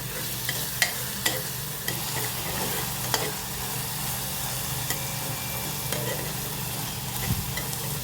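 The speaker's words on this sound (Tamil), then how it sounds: "இது நல்லா பொன்னிறமாக வதங்குற வரைக்கும் வதக்கி விட்டுக்கோங்க." Carrots and beans sautéing in a pan for a kids' biryani, with a constant dense sizzle and occasional clinks and scrapes of stirring. The cooking sound is close and even, and nobody speaks.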